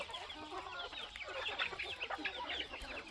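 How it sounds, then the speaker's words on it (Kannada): A flock of native hens crowding together to eat feed, with a busy overlapping chorus of soft clucks and chatter at close range. "ಹಾಕಿದ್ದೀನಿ ದೊಡ್ಡ ಕೋಳಿಗಳಿಗೆ. ಎಲ್ಲ ತುಂಬ ಗುಂಪಾಗಿ ಸೇರ್ಕೊಂಡು ತಿಂತೈತೆ."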